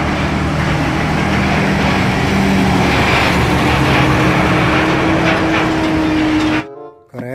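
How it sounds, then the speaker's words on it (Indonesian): A toy Pertamina tanker truck's engine sound effect drones loudly and steadily, its pitch rising slightly partway through before cutting off abruptly. "Wow, lihat, ada truk tangki Pertamina."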